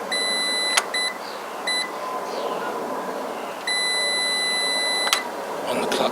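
Multimeter continuity beeps while probing the switch and clutch-switch wiring of a Chinese Jinlun 125 barn-find motorcycle: several sharp, steady electronic tones, a couple of quick short ones and two longer sustained ones, over a constant background hum.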